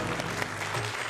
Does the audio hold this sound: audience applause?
yes